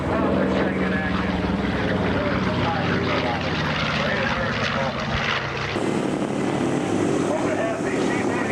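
A C-47 propeller plane at an airshow passes overhead with a steady, loud droning roar that shifts slightly as it moves, while an announcer talks over it.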